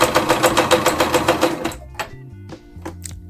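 Sewing machine stitching a pocket onto a sweater, a quick run of loud, evenly spaced needle thumps up close, then a few scattered clicks and clacks as it stops.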